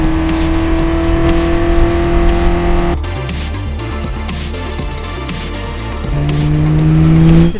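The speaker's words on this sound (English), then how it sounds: "we have this one of only 10 in the world McLaren 600LT MSO" An 800+ hp McLaren 600LT MSO sports car accelerates hard with its tires squealing, a loud, sustained engine and tire howl whose pitch drops sharply about midway and then climbs again.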